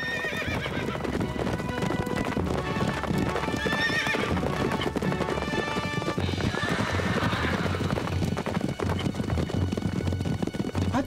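Steady clip-clop of several horses' hooves, with horses whinnying and neighing now and then, loud and continuous throughout.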